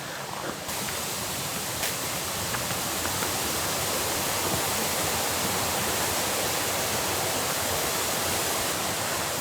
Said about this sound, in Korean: 근 여기 사이에 이제 계곡이 있나 봐요. 물소리가 제법 좀 크게 들리는 게